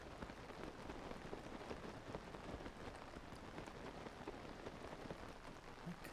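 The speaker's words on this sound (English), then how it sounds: "Oh god, it's raining, really?" Rain falls in The Legend of Zelda: Tears of the Kingdom as a soft, steady hiss of drops, quiet and unbroken throughout with no speech.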